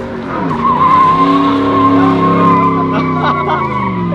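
A diesel drift truck slides with loud, sustained tire squeal and skidding close by, the engine droning underneath as the rubber howls continuously; a voice talks briefly over it.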